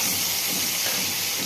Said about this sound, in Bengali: পেঁয়াজটা লাল লাল করে ভাজা হবে